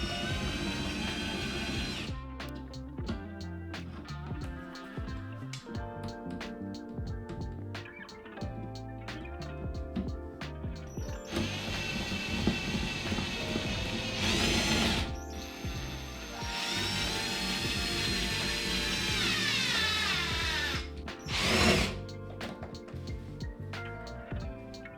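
A screwdriver driving screws into the wheels of a cabinet, repeated ratcheting clicks and whirring bursts with pauses between, close and moderately loud, with no talking.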